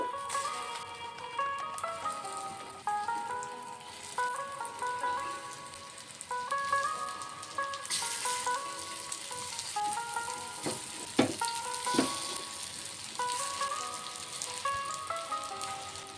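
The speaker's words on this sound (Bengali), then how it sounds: "লো ফ্লেমে রেখে আমি এপাশ ওপাশ করে একটু ভেজে নেব" Kachori frying in plenty of oil over a low gas flame, a steady close sizzle and crackle with soft bubbling that runs throughout, a few louder spatters partway through.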